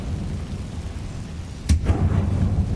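Confringo fire spell in the video game Hogwarts Legacy, heard as one sharp blast followed by a rumbling, crackling burst against a steady low background.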